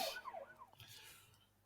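A police car siren rises and falls in quick, faint sweeps that soon fade into a low, quiet background.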